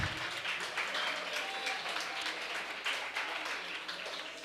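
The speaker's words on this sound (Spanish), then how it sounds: "Un aplauso." An audience at a globalization forum claps continuously at moderate volume, a steady wash of applause throughout with no voices standing out.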